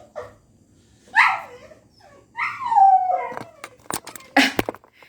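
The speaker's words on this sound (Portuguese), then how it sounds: "meu cachorro chegou" A dog yips, whimpers and gives short howling barks in a series of close, loud bursts, with brief pauses between them and no talk.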